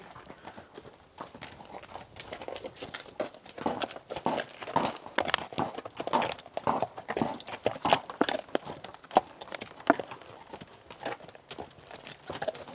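Horse hooves clip-clop in a brisk, irregular stream of sharp knocks, as several horses walk past on a path near Lake Louise in Banff, Alberta, moderately close and without speech.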